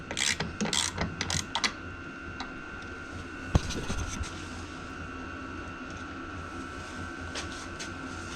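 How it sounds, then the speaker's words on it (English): Ratchet removing 13 mm master cylinder bolts on a Jeep TJ being rebuilt from a wreck: a quick run of close clicks at the start, then a single knock and quieter mechanical fumbling. "Once my help figures out how to use the ratchet, comes out just like that."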